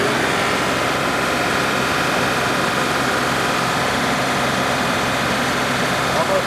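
A Kubota LX3310 or Deere 2038R compact tractor engine runs steadily at full throttle during a hydraulic flow test, a constant loud drone with broadband exhaust noise that holds without a break.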